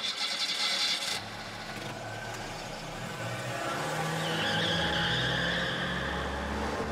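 A car engine in the video game Parasite Eve 2 drones steadily with shifting pitch as it accelerates, under a layer of hiss and noise.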